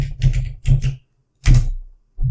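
Typing on a computer keyboard, a few quick clusters of key clicks close up with short pauses between them.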